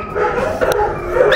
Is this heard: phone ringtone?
no